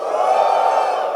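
Men in a church audience let out a sustained shout of joy together, a loud, even crowd cheer lasting about a second.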